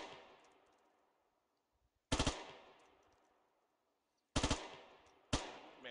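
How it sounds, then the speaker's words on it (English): M16 rifle in the game Squad firing three-round bursts: three separate sharp bursts, each a quick cluster of loud shots followed by a fading echo tail, with silence in between. "Alright, M16. Then with 3-round burst."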